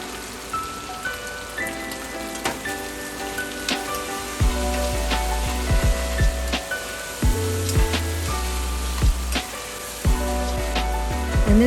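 Soy sauce hits a hot pan of Chinese three cup chicken, setting off a dense, crackling sizzle that starts partway through and continues steadily beneath prominent background music.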